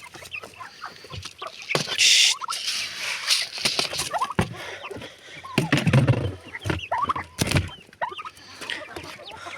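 Chickens cluck and squawk in irregular bursts near a restaurant in Cənlibel, with scattered pecking and rustling between calls at fairly close range.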